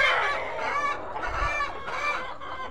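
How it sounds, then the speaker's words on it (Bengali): Tiger breed parent hens on a poultry farm cluck steadily in a dense, close chorus, with overlapping calls and a brief low thump partway through. "এই যে আমাদের প্যারেন্টস টাইগার মুরগি, এই যে মুরগি।"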